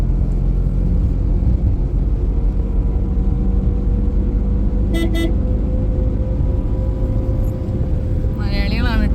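A car horn gives a short double honk on a highway in Maharashtra, sharp above the steady rumble of road and engine noise from a moving vehicle, with a voice starting near the end.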